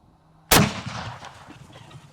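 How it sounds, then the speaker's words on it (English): A shotgun slug fired into a block of clay: one sharp, loud blast with a long rumbling decay that fades over about a second and a half. "I'm gonna shoot it with the slug, see what happens."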